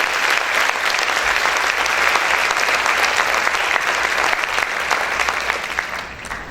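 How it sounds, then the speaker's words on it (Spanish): Church congregation clapping loudly and steadily, a dense, sustained wave of applause that fades slightly at the end. "Ese aplauso para el Señor, déselo fuerte."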